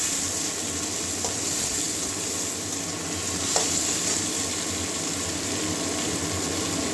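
Chopped medium tomato goes into sizzling ginger-garlic masala for a moong dal kalia with potato and pointed gourd, a steady close frying hiss with soft stirring taps throughout.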